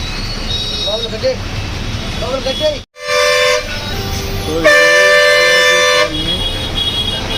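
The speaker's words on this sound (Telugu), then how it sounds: "ఫుల్ ట్రాఫిక్ జామ్ ఉంది" Car horns honk repeatedly in a full traffic jam in Balaji Colony, Tirupati, with long sustained toots from several vehicles over a steady roar of engines, a brief gap, then a loud continuous blast; voices are heard underneath.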